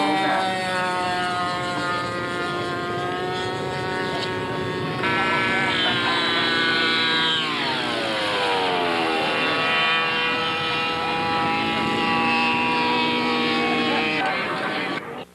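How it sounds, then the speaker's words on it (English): A scale model Platt ME-109 World War II fighter plane takes off at a model aircraft meet, its engine whining loudly and rising in pitch, then sweeping down in a Doppler fall as it passes and climbs away. "This, I believe, is a Platt ME-109 on takeoff roll."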